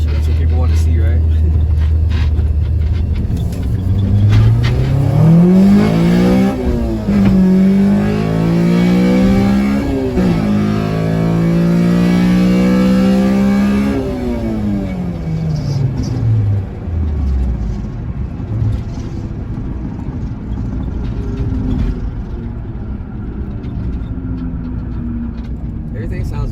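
A Honda Civic with a swapped K20A engine revs hard several times in a row, pitch climbing and dropping with each rip, loud and close, then settles back to a rumbling idle.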